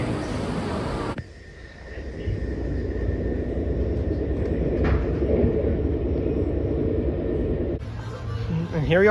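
Steady low rumble of a moving Swiss train arriving in Basel, with a brief sharper rattle partway through, continuous and fairly close.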